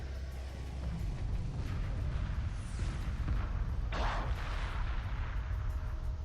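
Missile destroyer attacks in the space strategy game Homeworld Remastered, a dull rumbling barrage of booms and launch whooshes with one brighter burst midway, layered under a constant low battle roar.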